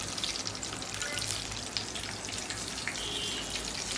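Pieces of chicken frying in hot oil give off a continuous crackling sizzle, fairly quiet but steady throughout, with no talking.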